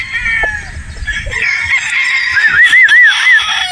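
A Boston Black rooster, a tall straight-combed broodstag, crows once loudly and close, its wavering call rising over background clucking and farmyard noise.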